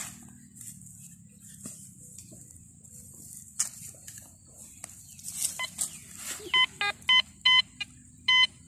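A coin metal detector sweeping over soil gives off a series of sharp, regular electronic beeps toward the end, rising above a faint background hiss and light handling noises outdoors.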